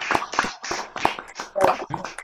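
A handful of online participants clapping after unmuting at the end of a talk, uneven separate claps with some tapping and shuffling, close and moderately loud.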